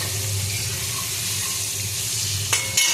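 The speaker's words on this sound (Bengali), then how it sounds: "আজকে আমি রান্না করছি ডিমগুলো ভেজে নিচ্ছি ভালো করে।" Eggs frying in a pan give off a steady, close, dense hiss that carries unbroken, with a couple of brief sharper crackles near the end.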